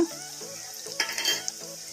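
Cumin and mustard seeds sizzling in hot oil, a faint close hiss with small scattered crackles and pops.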